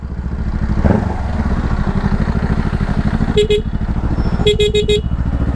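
A Yamaha R25 motorcycle with an aftermarket exhaust idles close by in traffic with a loud, throbbing exhaust pulse, and a few short horn toots sound near the end.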